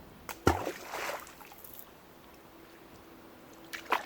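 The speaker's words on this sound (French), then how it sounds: "Donc les cailloux je les rince bien" Pebbles rinsed in water in a gold pan to separate out magnetite, giving a few quiet splashes and short trickling swirls with calmer gaps between them.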